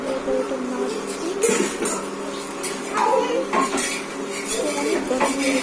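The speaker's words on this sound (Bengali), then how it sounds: "তো মা চিনি দেওয়ার পর ওটা নাড়ছি" A metal spoon stirs and clanks against a pot of sugar mixture for chitol pitha in a home kitchen, with repeated scraping knocks close by while someone talks throughout.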